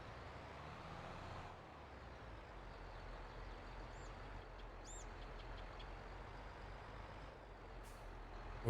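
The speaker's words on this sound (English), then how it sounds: "I'll reverse the trailer properly." A tractor reverses a trailer in Farming Simulator 22 with a low, steady engine drone, faint chirps and a brief hiss, all fairly quiet and with no talk.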